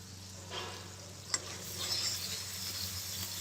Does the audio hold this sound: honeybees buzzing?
no